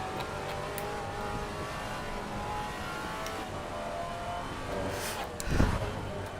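A Maserati GT4 race car in Assetto Corsa Competizione laps Indianapolis. Its engine drones steadily at high revs and swells briefly near the end.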